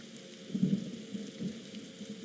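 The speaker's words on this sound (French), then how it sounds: "elle a commencé à pleuvoir" Soft, steady rain patters outdoors with a low rumbling undertone, faint and continuous across a short stretch without voices.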